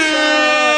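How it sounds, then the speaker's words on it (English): Air horn sound effect blaring in one loud, steady, brassy sustained blast lasting under a second, with no other sounds. "Air horns."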